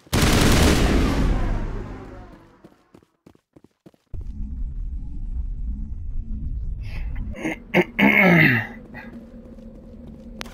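A light machine gun in a video game unleashes a loud, dense burst of fire at the start that trails off into a few sparse shots, followed by quieter rumbling game sounds and a brief clattering flurry near the end.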